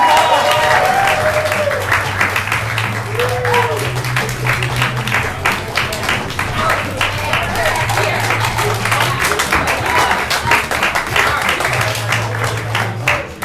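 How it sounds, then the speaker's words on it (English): Sustained loud applause from a live audience at a gaming event, dense clapping filling the whole stretch with a steady low hum beneath. "Give a big round of applause, please, for the Retro players who are live."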